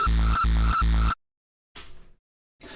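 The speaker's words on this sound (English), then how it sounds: "that kick sounds like this" Three heavy, distorted hardstyle kick drum hits pound in quick succession, booming and buzzy, followed by a pause and two fainter bursts.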